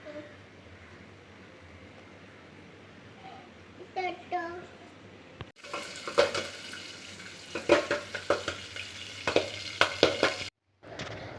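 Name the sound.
popcorn frying in hot oil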